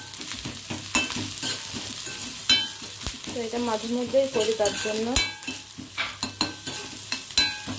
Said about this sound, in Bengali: তো এবার রসুন বাটাটা দিয়ে দেবো রসুন থেতো করে নিয়েছি